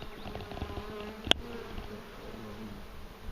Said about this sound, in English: The bees around us.